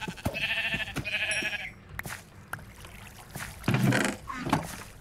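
Sheep bleating in a block-based survival game on a one-block island, several short wavering calls close by over game noise, with a person talking underneath.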